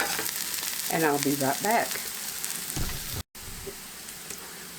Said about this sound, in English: garlic, let it kind of cook a little bit.